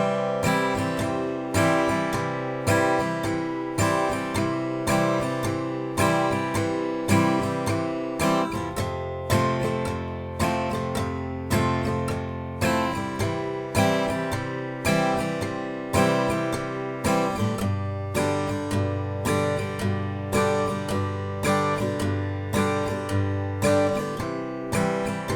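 An acoustic guitar strums a simple down, down, up pattern through the verse of a song, loud and close, with even rhythmic strokes and chord changes and no voice.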